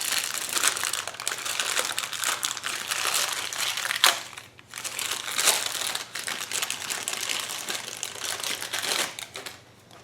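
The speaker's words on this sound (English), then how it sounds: "The fuel pump comes in a plastic bag." A plastic bag holding a generator fuel pump crinkles and rustles, close and continuous, with brief pauses around the middle and a fade near the end.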